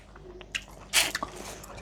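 Grilled shrimp is bitten and chewed up close: a few soft crunches and one sharp, crisp bite followed by wet chewing sounds, quiet and brief, with no talking.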